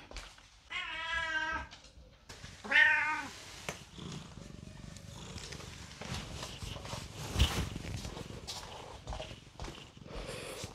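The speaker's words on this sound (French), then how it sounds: "c'est le petit chat qui réclame des câlins" A small cat meows twice in short harmonic calls near the start, close and clear, followed by quieter rustling and handling noises with no talking.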